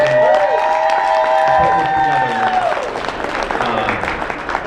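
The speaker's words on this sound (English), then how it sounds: "big round of applause for the fantastic staff and organizers" Audience applause for convention staff and organizers at an anime fest closing ceremony, a dense wash of clapping with some cheering running throughout, while tonal sounds and a voice come through on top.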